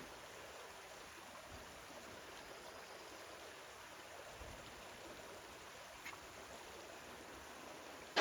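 Steady broadband rush of a creek flowing toward a waterfall in the Arkansas backcountry, a continuous even wash of water at moderate distance with no voices.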